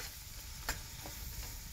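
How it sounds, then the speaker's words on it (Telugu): A spoon faintly stirs chili powder into a simmering prawn curry, giving a quiet scraping swish with one soft knock against the pan beneath a low sizzle. "కారం వేసుకుని కలుపుకుంటున్నాను"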